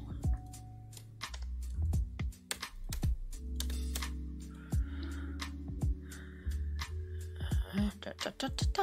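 Crisp computer keyboard keystrokes come in quick irregular bursts and pauses, close and clear over a low steady hum, as someone fills in a crossword puzzle.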